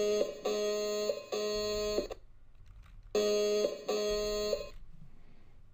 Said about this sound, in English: we had set up a door alarm to go off if you got too close to the door by entering a trigger